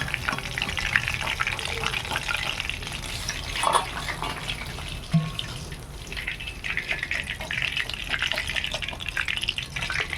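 Pieces of hilsa fish sizzle and crackle in hot oil in a pan, a steady broad frying hiss running throughout with a few brief louder spits and pops.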